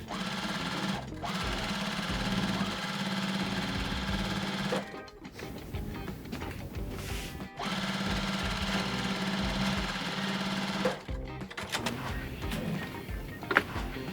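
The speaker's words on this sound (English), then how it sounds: "So now it's time to sew our rows together." A sewing machine stitches quilt rows together with a steady, close motor whir and needle chatter, running continuously and stopping briefly a few times before starting again.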